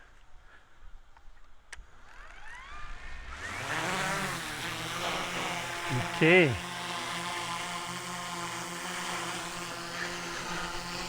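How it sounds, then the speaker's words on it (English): A DJI Mavic 3 drone spins up and lifts off outdoors: a rising buzzy whine of the propellers swells into a steady, loud, close hum that holds after a brief pitch swoop, with a short spoken word near the start. "So let me launch the drone."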